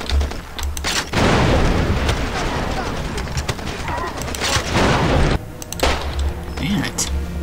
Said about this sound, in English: because they're just sort of shooting into a wall there